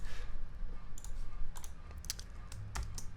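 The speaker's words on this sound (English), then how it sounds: "hold down the Option or Alt key on your keyboard and hit the end bracket key" Computer keys pressed during software editing work, a handful of light, scattered clicks and taps at irregular intervals over quiet room tone.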